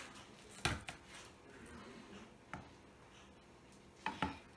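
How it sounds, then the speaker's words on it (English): Garlic crushed under the flat side of a knife on a cutting board, with a few sharp thumps and presses spaced apart, close and fairly quiet, each followed by faint board rattle. "garlic using the flat side of the knife"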